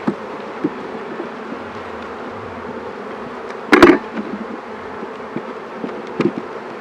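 Honeybees buzz steadily in a dense, continuous drone from a hive during an inspection as frames are shaken into a tub, with a brief louder rush of buzzing and knocking near the middle and a few small bumps after.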